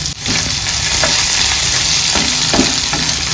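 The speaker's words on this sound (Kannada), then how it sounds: "ಎಲ್ಲ ಚೆನ್ನಾಗಿ ಫ್ರೈ ಮಾಡಬೇಕು." Ingredients frying in hot coconut oil for mutton masala, a loud continuous close sizzle with occasional stirring scrapes and soft knocks, no speech.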